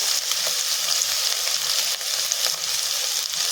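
Ginger garlic paste frying in a pan with ground spices being added, a steady bright sizzle that holds at a close, even level throughout, with no voices.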